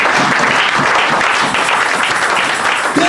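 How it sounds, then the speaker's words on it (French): A church congregation applauds to cheer the Lord during a sermon, giving steady, loud, close clapping that fills the room without a break, with faint voices mixed in. "Est-ce qu'on va acclamer le Seigneur?"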